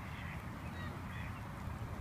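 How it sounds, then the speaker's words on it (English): Dense outdoor bird chatter with soft quacks from a group of ducks close by, continuous and busy, with no talking. "Lots of ducks."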